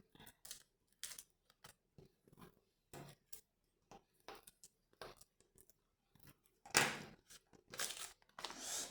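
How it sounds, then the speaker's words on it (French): Plastic pouch envelope having its bottom part folded, a series of short crinkling and crackling bursts with brief pauses, growing louder toward the end, close and alone. "On va venir plier la partie du dessous qui reste."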